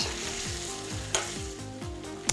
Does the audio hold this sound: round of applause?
no